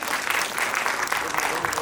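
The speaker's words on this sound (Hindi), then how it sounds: "तालियां प्लीज।" Audience applause at a school annual function, a dense continuous clatter of many hands filling the room at steady loudness throughout, with some voices mixed into the wash.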